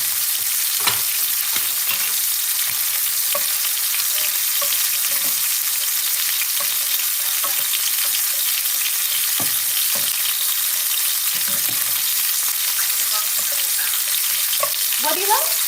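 Fennel frying in a hot pan, giving a steady close sizzle with scattered crackles and pops and occasional stirring clatter, running continuously with no talking.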